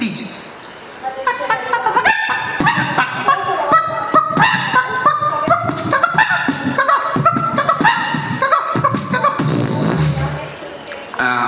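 A performer in a mono act at a state school arts festival imitates a rooster with the voice, giving a rapid run of honking, crowing calls loud and close, with brief breaks between bursts.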